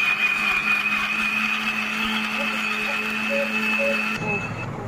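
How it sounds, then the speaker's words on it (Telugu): Mixer grinder grinding mint into tandoori masala paste, a loud steady motor whine with a high pitched tone, running continuously for about four seconds before cutting off abruptly. "పుదీనా కూడా వేసుకొని మనం మెత్తగా గ్రైండ్ పట్టుకోవాలి"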